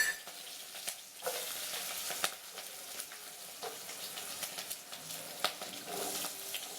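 Onion, green chilli and garlic frying in sesame oil for vendhaya keerai puli kuzhambu, a soft, steady sizzle broken by sharp clinks and scrapes of stirring, quiet and close with no talking.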